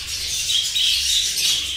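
Pet birds in a colony kept outdoors during the rainy season, chirping continuously in a busy, high-pitched chorus with a low background hum underneath.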